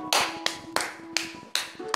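Hands clapping during a Liên Quân Mobile game session, about five sharp, evenly spaced claps, close and moderately loud, with a faint steady tone underneath and no talking.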